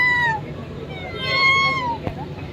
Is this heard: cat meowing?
yes